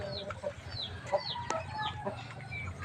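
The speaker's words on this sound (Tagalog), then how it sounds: "May naglilimlim na naman tayo." A brooding hen clucks in short repeated calls at close range among a few other farm birds, with faint background rustling.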